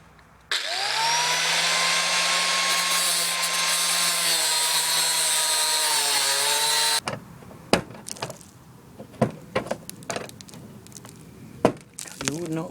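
A power tool cuts through a corroded speed fastener on a Jaguar X-Type bumper with a loud, continuous whine for about six seconds. It cuts out abruptly, then comes a series of sharp clicks, taps and handling knocks.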